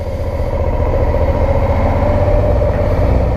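A Suzuki V-Strom 650 motorcycle pulling away in first gear near a park in Hoboken: a steady, close engine drone with a low rumble and a constant pulse, heard alone.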